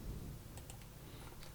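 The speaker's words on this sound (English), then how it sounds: "will type in" A few faint, quick keystrokes on a computer keyboard as a tempo value is typed into Cubase music software, heard alone against a quiet room hush.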